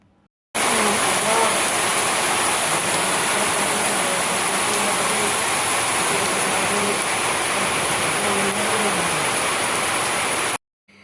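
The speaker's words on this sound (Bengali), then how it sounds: "টিনের চালের উপরে যখন টাপুর টুপুর এই বৃষ্টিগুলো পড়ে" Heavy rain drumming on a tin roof, a steady loud hiss of dense drops that starts and stops abruptly, with a low vehicle-like rumble underneath.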